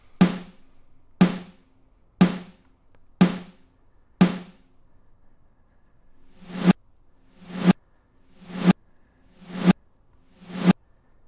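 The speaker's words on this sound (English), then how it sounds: "Here is what just a regular reverse snare sounds like." Reverse snare drum hits repeat about once a second, each swelling up from nothing and cutting off sharply at its loudest, loud and alone with one longer gap midway.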